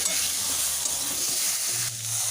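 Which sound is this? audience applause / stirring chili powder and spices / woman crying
stirring chili powder and spices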